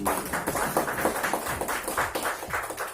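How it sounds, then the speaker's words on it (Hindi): Audience clapping after a call for loud applause for district teams at a blood donation campaign event in West Bengal, dense and steady throughout, with a few sharper claps standing out near the front. "एक बार जोरदार तालियां आप लोग"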